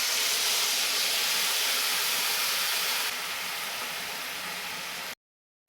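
Soaked moong dal hitting a hot pan for a cabbage dish, a loud, steady hiss of sizzling that holds for about five seconds and then stops dead.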